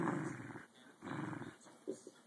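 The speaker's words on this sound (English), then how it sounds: "That's the big mean dog." A big dog growls in low, rumbling bursts, close and fairly quiet, with short pauses between the growls.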